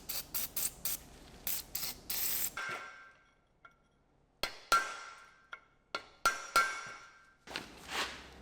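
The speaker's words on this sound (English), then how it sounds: "I'm going to get some penetration spray on it" Penetrating spray hisses onto a corroded snap ring on a pressed wheel bearing hub of an Audi Q7, Touareg or Cayenne, in several short bursts followed by sharp metallic clicks and taps.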